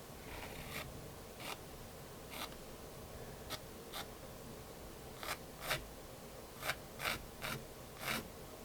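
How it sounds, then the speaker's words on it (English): A pencil sketches a quick Tuscan landscape outline on paper. Short, scratchy strokes come in scattered bursts, faint against a steady background hiss. "So I'm just doing a little basic sketch of that really quickly."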